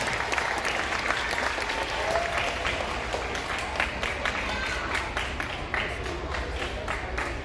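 Sustained applause from a school crowd for fifth grade academic achievers at an elementary school awards ceremony, steady dense clapping throughout with some faint voices mixed in.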